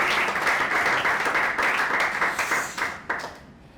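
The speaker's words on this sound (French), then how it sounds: "Applaudissez tout le monde" A comedy club audience in Kinshasa bursts into sustained, dense applause, loud and close, with the clapping thinning and fading away over the last second.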